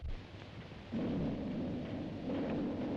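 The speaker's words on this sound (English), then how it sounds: "There's that thunder sound." Low, rolling thunder rumbles steadily, swelling louder after the first second and holding as a broad, heavy roar with no voices.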